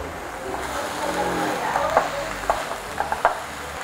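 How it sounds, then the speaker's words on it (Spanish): Beef browns in a hot pan for crepe stroganoff, giving a steady sizzle with a few sharp pops and the scrape of stirring. "Agregamos la carne. Dejamos que dore un poco."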